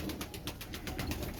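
Rampuri pigeons coo at the Shahdara pigeon market in Lahore, with a soft, rhythmic run of repeated calls close by and no talking.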